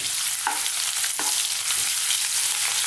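Chunky-cut garlic and ginger drop into hot oil for an aloo gobi potato and cauliflower curry, giving a steady broadband sizzle with two sharper stirring clatters near the start, no talking.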